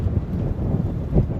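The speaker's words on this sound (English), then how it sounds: "it's getting a bit windy, a bit blowy" Wind buffets the microphone in low, rumbling gusts, rising briefly near the end.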